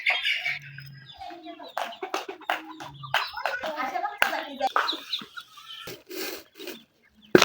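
Hungry ducks and chickens clamour noisily for feed, their calls and squawks coming in busy bursts close by, mixed with people talking and a few claps.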